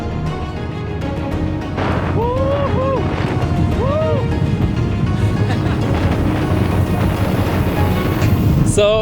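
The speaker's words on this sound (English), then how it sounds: "oh my god, it's so fucking windy" Strong wind buffeting the microphone on top of a high sand dune, a loud continuous roar with gusts, while people talk briefly over it.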